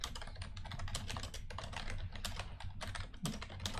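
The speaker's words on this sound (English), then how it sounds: "I was typing something in the chat there" Fast typing on a computer keyboard, a close, dense patter of key clicks with no voices, fairly quiet and continuous throughout.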